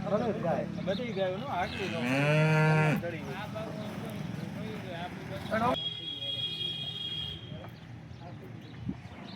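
A cow lets out a long, loud moo close by at a cattle sale in Halenda village, Rajkot district, amid farm background noise and a person talking intermittently.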